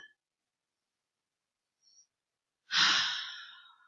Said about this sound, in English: So let's stop and take a breath.